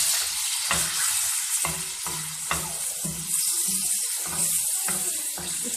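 Tomatoes sizzling in a pan with golden fried onions and ginger garlic paste for tava dum keema, a steady loud frying hiss with periodic stirring scrapes and clanks, no talk.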